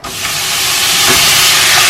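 Squid and pork belly stir-frying over high heat in a preheated frying pan, a loud continuous sizzling hiss that swells quickly and stays steady, with no talking.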